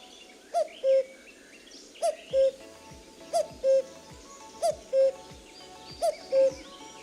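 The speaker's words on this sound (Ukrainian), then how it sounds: "Зозуля літала, літала, свою пісню співала, співала, для дітей голосно кувала." A cuckoo calls five times, each a clear two-note cu-coo spaced evenly about a second and a half apart, fairly close and alone over soft background hiss.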